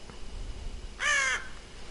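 A single loud crow caw from the horror adventure game Death Mark, one harsh, clear call lasting under half a second, heard alone over a quiet background.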